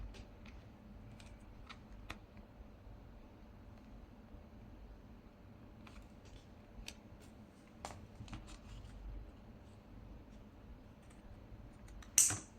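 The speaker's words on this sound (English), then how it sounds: "now I'm just going to snip the corners" Scissors snipping the corners of a paper tag, a few quiet sharp snips and clicks spaced out over faint background hiss, close and soft.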